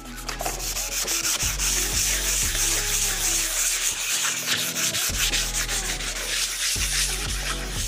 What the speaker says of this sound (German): die andere Seite mit Schleifpapier bearbeiten